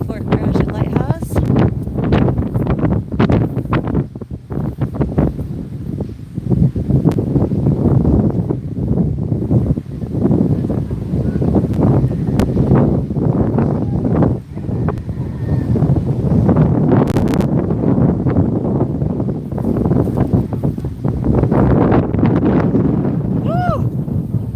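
Strong, gusty wind buffets the microphone at a sandy lakeshore near a lighthouse, roaring in uneven bursts and lulls, with a person's voice occasionally audible beneath the rumble.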